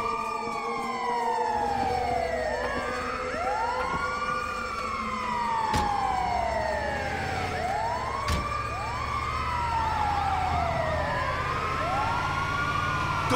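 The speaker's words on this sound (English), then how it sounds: "Hey, get an ambulance, come on!" An ambulance siren in Grand Theft Auto 5 wails continuously with repeated rising and falling sweeps, joined by a second overlapping siren, fairly close and steady for the whole stretch with brief sharp clicks.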